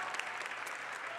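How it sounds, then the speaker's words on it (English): An audience at an evening dance festival show applauds the backstage crew, a steady wash of clapping heard from a distance at moderate level throughout. "I want to give a round of applause for our backstage crew"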